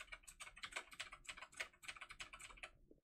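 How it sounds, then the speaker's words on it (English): Computer keyboard typing picked up by a HyperX QuadCast LED microphone: a quick, steady patter of crisp key clicks, close and fairly quiet, running continuously for a few seconds with no talking. "I'm typing on keys."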